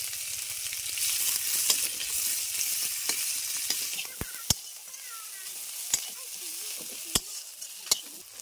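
Whole cumin, two bay leaves and chopped onion sizzling in hot oil in a pan, a dense continuous crackle with scattered sharp pops and spatters standing out through the later part, no voices.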